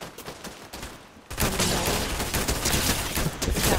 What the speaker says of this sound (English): There's two people shooting at me.